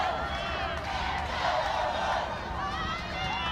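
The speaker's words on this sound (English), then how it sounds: "The England fans are cheering." Crowd noise from England supporters at a women's lacrosse World Cup bronze match between England and Australia, a steady, dense wash of distant cheering and voices sustained throughout at an even level.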